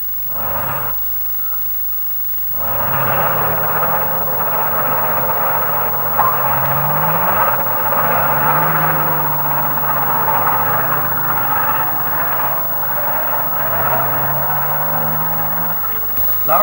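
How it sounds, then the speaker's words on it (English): Milk collecting lorries pulling into a creamery yard in the Cotswolds in 1966, heard as a steady heavy engine drone with shifting low revs as the vehicles arrive, moderately close, after a short quiet gap at the start. "Lorries are arriving at regular intervals at the creamery premises"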